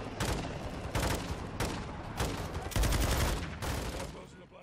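Heavy gunfire in Call of Duty Modern Warfare II: loud bursts of shots come in a steady rhythm of repeated volleys, with dense rapid firing toward the middle.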